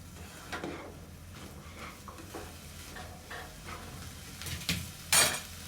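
Spiced raw vegetables being stirred in a pan in a home kitchen, with soft scraping strokes over a light sizzle and a sharper clatter near the end.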